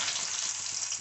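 Cut potatoes fry in hot oil in a pan for a spinach dish, giving off a continuous, even sizzling hiss at moderate volume.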